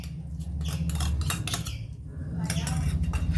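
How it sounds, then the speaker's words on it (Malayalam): Fish being mixed with raw coconut oil and coconut milk: a steady run of close clinking and scraping of a utensil against a dish over a low constant hum. "കുറച്ച് പച്ച വെളിച്ചെണ്ണ കുറച്ച് നാളികേരപ്പാൽ ഇതൊന്ന് ചേർത്ത് മിക്സ് ചെയ്യട്ടെ ആദ്യം"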